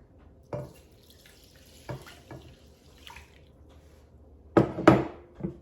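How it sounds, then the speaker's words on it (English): Water is poured into a bowl in brief splashing bursts, a couple of small pours followed by a louder gush near the end, in an otherwise quiet kitchen. "And then I'm going to add 3½ cups of water."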